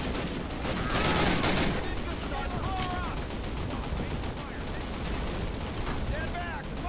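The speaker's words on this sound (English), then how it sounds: "I don't know where that guy is shooting from." Gunfire crackles through a Call of Duty battle, dense bursts and rattling volleys that keep going under a continuous roar of combat, loud and busy from start to finish, with no voices on top.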